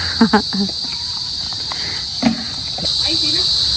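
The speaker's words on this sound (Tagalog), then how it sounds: "Alas 5 na po ngayon ng hapon kaya po yung mga kuliglig ay nagiiingay na ulit" Crickets chirp in a continuous high, dense drone through a late afternoon at a fishpond, heard alongside brief voices and a few knocking sounds, with the insect chorus growing louder near the end.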